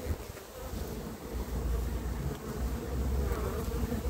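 Honeybees hum steadily around an open hive frame holding eggs and pollen, a dense close buzz that swells slightly louder toward the end, with no voices.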